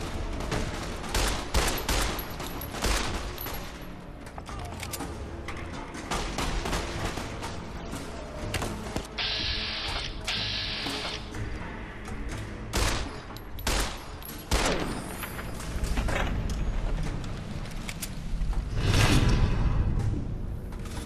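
Gunfire in the video game Fallout: New Vegas, a long stretch of scattered shots and bursts at uneven intervals, some close and loud, with clanks and creaks of mechanisms between them.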